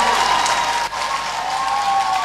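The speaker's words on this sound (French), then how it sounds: "Le chœur Résurrection de Faya sous vos applaudissements." Audience applauds a choir at a choral competition finale, a steady even patter of many hands at moderate loudness with a faint sustained tone running beneath.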